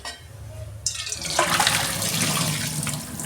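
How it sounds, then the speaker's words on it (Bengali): Bitter gourd soaked in salt and turmeric water is strained out at a kitchen sink. Water splashes and pours steadily and nearby, with running and draining sounds that carry through to the end. "বন্ধুরা, নুন হলুদ জল থেকে এটা আমি ছেঁকে তুলে নিচ্ছি"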